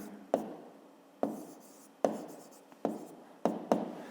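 A pen writes out a fifth-grade math exercise by hand, making about six quick scratchy strokes, each with a sharp onset that fades, in a quiet, close setting with no speech.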